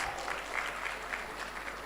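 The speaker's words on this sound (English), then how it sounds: "give him a round of applause" Audience applause at an Africa research and innovation commercialisation summit, a short, fairly quiet burst of steady clapping from a hall crowd.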